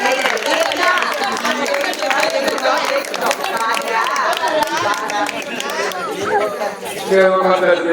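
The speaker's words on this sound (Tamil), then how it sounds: "அனைவருமே கைதட்டுங்கள்" An audience claps steadily through a Tamil stage drama performance of Kandan Karkodagan and Malayala Bhagavathi, with the dense patter of hands running the whole time beneath loud voices and music.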